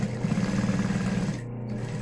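A sewing machine stitches a seam on a thermal lunch bag, running in a steady, close buzzing whir at slow speed and then easing off briefly near the end.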